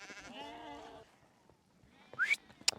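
A sheep bleats in a wavering, drawn-out cry on a Mongolian pasture, followed by quieter rustling and a couple of short, sharp high calls from the flock, with no talking.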